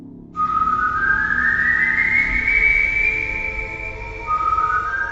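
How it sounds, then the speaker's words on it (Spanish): An eerie whistle effect for the El Silbón legend: a single sustained whistled tone that slides slowly upward in pitch, breaks off, then resumes higher over a low rumbling bed. "puedes escuchar un sonido muy particular, un silbido que retumba hasta lo más profundo de tus entrañas"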